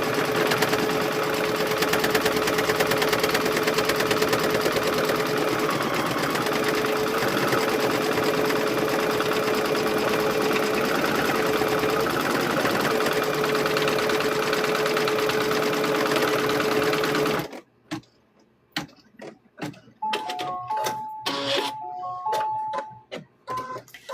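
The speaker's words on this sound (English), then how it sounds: "So now it's going to do another stitch on there, and then it'll move to the center." A sewing machine stitching quilt squares runs in a loud, continuous mechanical drone with a rapid needle rhythm for about seventeen seconds, then stops abruptly and gives way to a few short electronic beeps and tones.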